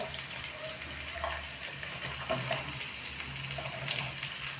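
Chopped onions frying in a pan for mixed vegetable bhaji give a steady, soft hissing sizzle with faint scattered crackles, with no talking.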